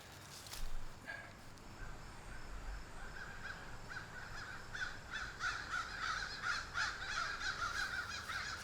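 A group of crows caws repeatedly outdoors in a garden, the harsh calls building into a dense, overlapping chorus at moderate distance, with faint rustling underneath.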